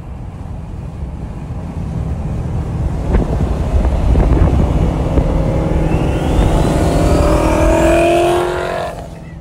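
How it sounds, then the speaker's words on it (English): A 2022 Ford Mustang GT fitted with twin turbos passes with a swelling engine roar, then rising and falling turbo spool whistles stand out over the exhaust before the sound fades, with heavy wind noise throughout. "You hear these turbos spooling all the time."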